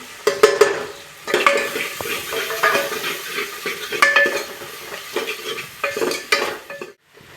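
Onions frying with chili, ginger and garlic for a village-style mung and chana dal, stirred in bursts of scraping and clinking over a soft sizzle, with short pauses between strokes.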